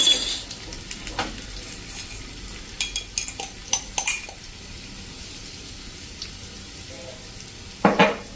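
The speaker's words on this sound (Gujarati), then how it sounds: "1 ટીસ્પૂન જેવું જીરું, 1/4 ટીસ્પૂન આપણે હિંગ નાખી દેશું, અને આપણે લસણ અડધું જે રાખ્યું હતું ને 1 ટેબલ સ્પૂન જેવું એ નાખી દેશું, અને એને આપણે ક્રકલ થવા દેશું" Cumin seeds, asafoetida and garlic crackling in hot oil, a low frying hiss broken by scattered sharp pops and spatters, with utensil clinks against the pan near the start and end.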